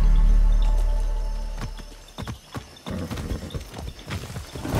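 In the video game Far Cry 6, horse hooves clop rhythmically on the ground after a deep rumble fades, close and fairly loud, with a faint snort.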